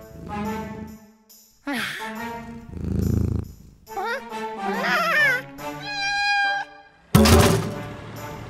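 A cartoon winged cat meows in drawn-out, sliding tones, broken up by a low rumbling purr and a sudden thump near the end, with a few short quiet gaps between the sounds.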